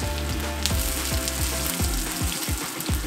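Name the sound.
ginger frying in hot oil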